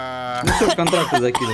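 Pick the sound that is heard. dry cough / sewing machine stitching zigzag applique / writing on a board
dry cough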